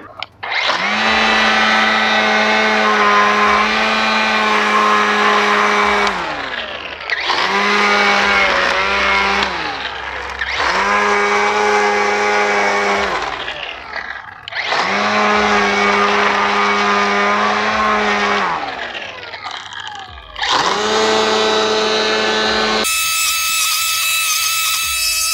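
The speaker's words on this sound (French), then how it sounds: "le taille bordure là de chez Work, donc de la gamme Nitro" A WORX Nitro WG173E cordless string trimmer cutting around a concrete slab, sounding as a loud high-pitched whine in about five bursts separated by short pauses, with nothing else in the mix.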